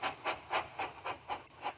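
Steam locomotive chuffing off with seven evenly spaced, hissing exhaust beats in under two seconds, moderately close and with nothing else heard.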